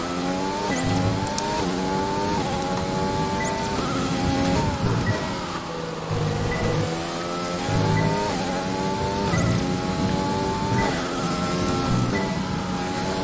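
Formula 1 car engine in the F1 2020 racing game, a loud continuous high-pitched whine that climbs through the gears and dips on lifts and downshifts, with occasional tyre squeal, playing alone with no voices.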